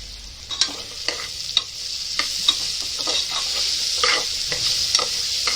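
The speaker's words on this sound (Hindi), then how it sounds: "चम्मच चला चला के लेंगे अच्छे से।" Palak dal stirred with a spoon in a frying pan, a steady sizzle running throughout with irregular scraping clicks of the spoon against the pan, close and fairly loud, no voices.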